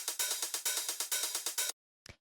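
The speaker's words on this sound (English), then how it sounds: "So the first set of drums we have here are these hi-hats" Closed and open hi-hats loaded in a drum rack for a house track tick in a fast, even run of crisp, bright hits, then stop, followed by a single short hat after a brief pause.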